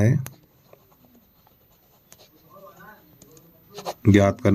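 Pen writing on paper in a Class 10 math lesson on triangles, with soft scratchy strokes between spoken words and louder talk at the start and end.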